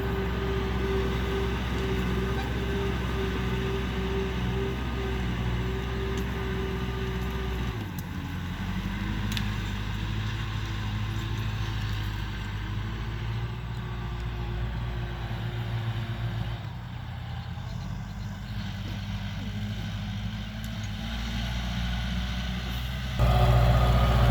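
A 2016 Kubota L5018 tractor with about 1,500 hours runs with a continuous low diesel rumble close by. The engine note steps down partway through and rises again near the end.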